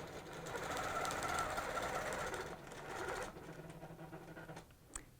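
A sewing machine stitches along a cable ruler in a steady, fast mechanical whir that runs loud for about three seconds, then drops softer and stops near the end, followed by a small click.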